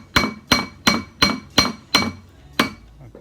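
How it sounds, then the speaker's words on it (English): Clipped rivet ends on a jack-o-lantern candy bucket handle are hammered down against a piece of steel, seven sharp, ringing metallic strikes at a steady, even rhythm, loud and close. "then just hammer those down real nice on a piece of steel"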